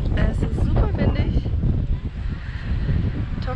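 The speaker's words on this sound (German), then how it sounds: "Es ist super windig." Strong gusting wind buffets the microphone outdoors at a castle, a dense low roar that covers the whole stretch while a person talks through it.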